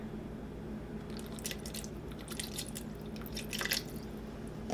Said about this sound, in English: 4-second long squeeze of honey